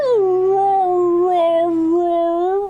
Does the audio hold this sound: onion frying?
no